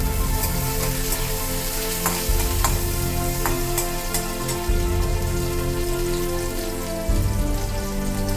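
Garlic tempering sizzles steadily in hot oil for Bengali moong dal with fish head, a continuous close frying hiss with faint crackles and a few soft stirring knocks, no voices.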